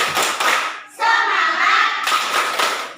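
A school class performs a spirit clap, with bursts of claps and thumps near the start and end and a shouted group chant in the middle.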